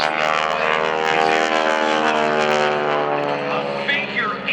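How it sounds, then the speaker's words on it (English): An aerobatic propeller airplane performing at the 2011 Blue Angels Homecoming Airshow, its loud sustained engine drone with rising and shifting pitch filling the whole stretch, close and continuous. "rolled the airplane upright, almost what Bill Leff is doing"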